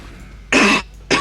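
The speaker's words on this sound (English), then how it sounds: "It was a cough, but I leaned away from the microphone." Two short, sharp coughs, a longer one then a brief second, made by a person leaning away from the microphone, over a faint background hum.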